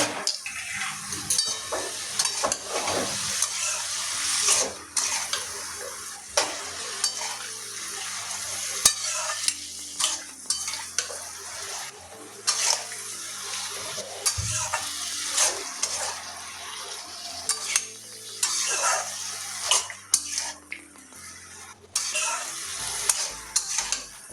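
Pumpkin and yardlong beans being stir-fried with spices, a spatula scraping and stirring in repeated strokes over a steady sizzle, close and fairly loud throughout, with occasional pan clanks.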